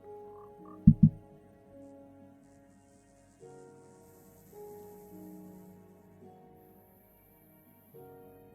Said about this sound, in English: there's a frog jumping around